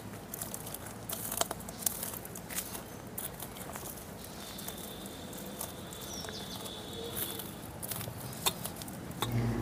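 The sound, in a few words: crushing dried red chillies with a dal masher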